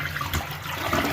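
A freshly reinstalled toilet flushes in a home bathroom, a short steady rush of water close by with no voices over it.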